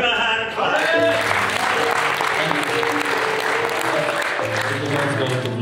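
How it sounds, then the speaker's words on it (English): A church congregation applauds for a man after prayer for the sick, sustained dense clapping with a low hum of voices and music beneath, steady throughout. "Give him a hand clap."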